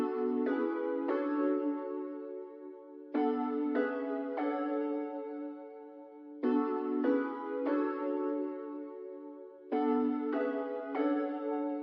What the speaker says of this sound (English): Next thing I added is this piano from Expand.